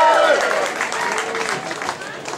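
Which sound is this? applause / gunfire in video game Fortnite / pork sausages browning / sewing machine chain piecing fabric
applause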